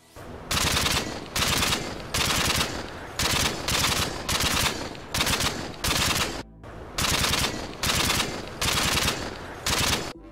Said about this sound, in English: if you guessed the UMP-45 from Modern Warfare 2, you would be correct